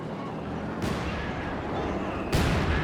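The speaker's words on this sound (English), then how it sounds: "Mortar hitting hard there." Mortar shells strike during a World War II strategy match with Sherman tanks, landing as two sharp broadband impacts about a second and a half apart. They burst over steady battle rumble, with a commentator talking throughout.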